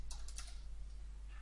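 Computer keyboard typing while entering a search query, a quick burst of several clicky keystrokes early on, then quieter faint taps over a steady low hum; no talk.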